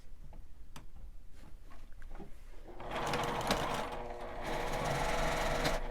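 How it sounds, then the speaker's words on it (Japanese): A sewing machine stitches a fabric seam with the seam allowance pressed open, running loud and steady for about three seconds after a quieter lead-in with faint ticking. "こちらも縫い代を開いて縫います。"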